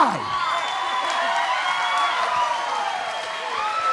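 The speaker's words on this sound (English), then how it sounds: "let me get a big round of applause for the Tongan Warlord" A combat-sports event crowd applauds and cheers for Tongan fighter Stephen Lakai, steady clapping and whoops filling the hall for the whole stretch, with whistles and a voice or two rising above the roar.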